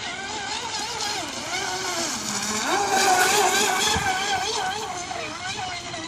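A Hobbyking Hydrotek F1 self-righting RC boat runs at full throttle on water, its buzzing motor whining continuously and wavering in pitch as it moves about at moderate distance.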